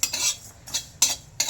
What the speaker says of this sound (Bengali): জিরেটা আমি ভেজে নেব